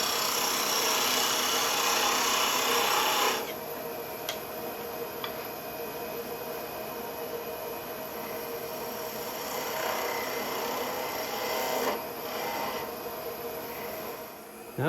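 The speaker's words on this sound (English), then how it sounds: "now it's just a bunch of peeling cuts" A lathe turns a long-stemmed goblet from damp wood while a tool takes peeling cuts, a steady hissing, shaving rasp over the machine's hum, loud at first and then softer, with a few faint ticks.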